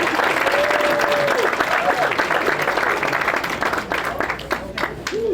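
Crowd at Chester City's inaugural People's Ball applauding after a speech, steady dense clapping throughout with a faint voice threading over it, tapering near the end.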